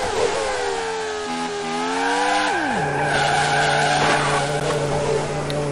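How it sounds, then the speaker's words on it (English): A Formula One race car in the 1996 Grand Prix 2 sim brakes hard into a left-hand corner: loud engine pitch drops sharply as revs fall, then settles into a steady drone with tire scrub. "braking hard into this left-hander"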